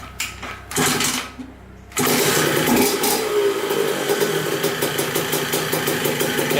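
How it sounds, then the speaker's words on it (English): A Suzuki RM125 two-stroke dirt bike, revived after sitting 15 years, catches on the kick and settles into a steady buzzing idle after a brief start-up burst. "Yeah, first kick, idles perfectly."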